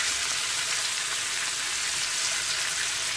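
Chicken frying in a pan of hot oil, a steady, loud, close-up sizzle with dense crackling that holds evenly throughout, no voices.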